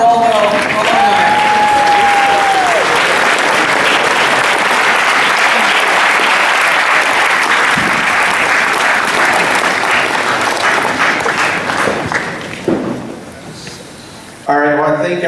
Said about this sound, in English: how about a round of applause for all the alumni?